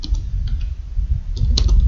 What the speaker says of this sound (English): the next thing I'm going to do is to type in the burial date